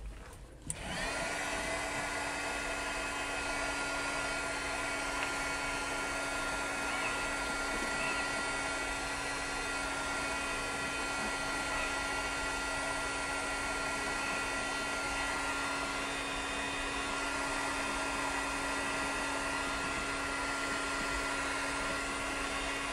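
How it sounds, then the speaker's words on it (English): A heat gun blows steadily for over twenty seconds while drying paint on a tumbler, a constant loud airy whoosh with a steady motor hum and no talking. "you can take your heat gun and dry it quicker"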